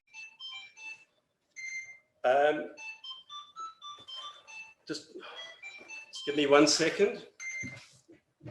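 A phone rings during a labour law workshop, its electronic melody of short beeping tones repeating several times while someone speaks briefly over it.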